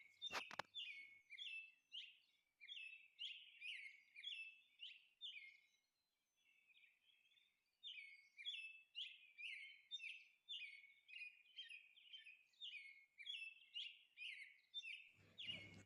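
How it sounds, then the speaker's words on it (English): A parrot chirps in rapid, repeated bright tweets, phrase after phrase with one short pause, close and clear over near silence. "P for parrot."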